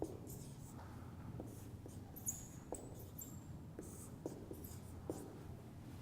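A marker drawing a network diagram on a board during a networking lecture, faint scratchy strokes and light taps scattered across several seconds in a quiet room.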